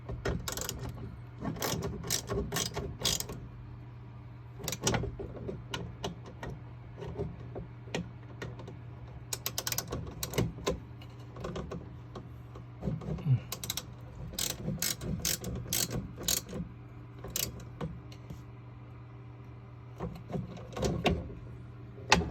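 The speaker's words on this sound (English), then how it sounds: "Down with the ratchet, just to test snug. Little 7mm guy, so it doesn't need much." A ratchet clicks in quick bursts of rapid pawl ticks, snugging a small 7mm bolt during an inverter part replacement, with a low steady hum underneath and short pauses between bursts.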